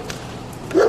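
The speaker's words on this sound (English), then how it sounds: "That dog's pissed." A dog barks once, fairly loud and close, near the end of a short stretch of quiet outdoor background, heard outdoors during a drone test flight.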